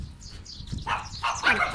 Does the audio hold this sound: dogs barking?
yes